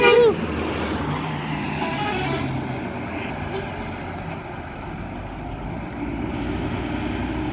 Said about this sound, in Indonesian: Hampir di overtake sama Yoanda tadi PO ALS, tapi tidak jadi karena ada mobil dari arah berlawanan.